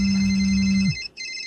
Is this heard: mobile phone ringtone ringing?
yes